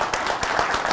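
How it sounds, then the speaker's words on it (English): An audience claps after a building-products presentation, a short burst of several hands striking in a brisk, uneven patter. "Let's give them a big applause."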